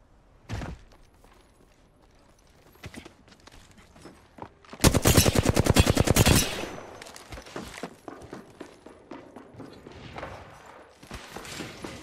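Gunfire in the video game Apex Legends: a lone shot, a few scattered shots, then a loud rapid automatic burst lasting over a second, followed by quieter sporadic shots and game noise.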